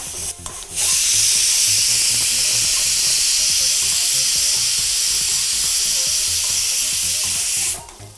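A pressure cooker of beef loudly vents steam in a steady, strong hiss that holds for several seconds after a brief start, then cuts off near the end.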